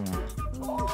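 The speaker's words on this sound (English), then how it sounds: "It's like a bird, guys. It's like a dove or something." A monster in the mobile music game My Singing Monsters (Thumpies) gives a bird-like, dove-ish warbling call. It lasts about a second, sounds close and steady, and plays over layered musical tones, with no talk.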